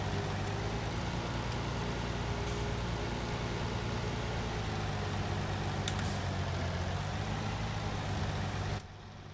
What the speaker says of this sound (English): I'll just park this tractor out by the house.